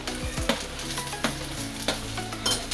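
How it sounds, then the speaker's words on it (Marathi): Three finely chopped tomatoes go into a sizzling pan for a paneer gravy, a steady hiss broken by a few sharp stirring scrapes and clanks, close and without speech. "आणि आता हे बघा मी 3 टोमॅटो बारीक करून घेतले आणि त्यांना पण मी त्यामध्ये टाकणार आहे।"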